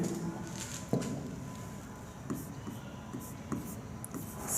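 Marker or chalk strokes on a board during a chemistry class, a quiet series of short scratchy taps and squeaks spaced about a second apart, with faint room noise and no speech.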